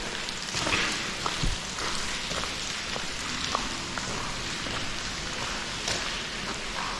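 Steady outdoor rain falling near the Donner train tunnels, pattering on surfaces with a few sharper drip taps, soaking a dog; a continuous close wash of sound with no talk.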